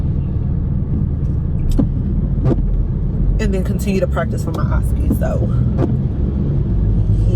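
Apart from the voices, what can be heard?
car interior rumble while waiting in line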